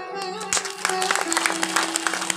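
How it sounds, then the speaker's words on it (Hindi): An audience at a Hanuman Durga Bhairav temple gathering breaks into clapping, scattered at first and then filling in, with a sustained musical drone underneath. "उनके लिए ताली"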